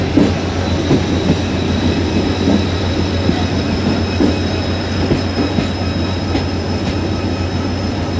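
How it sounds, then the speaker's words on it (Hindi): Shalimar Express passenger train slowly approaching a station in Sindh: a steady rumble of wheels on rails with faint squeal and clatter, continuous and moderately loud, no talking. "डाउन ट्रेन अप्रोच कर रही है और काफ़ी स्लो स्पीड में है"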